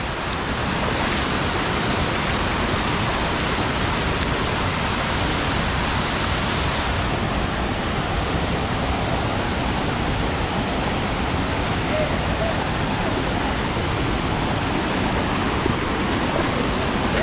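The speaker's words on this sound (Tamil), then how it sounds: "ஃபோட்டோஸ் எடுக்கிறதுக்கு வேறு லெவலான ஃபால்ஸ் இது." A waterfall in Munnar gives a loud, continuous rushing roar of falling water for the whole stretch, steady and unbroken, with no clear talk standing out above it.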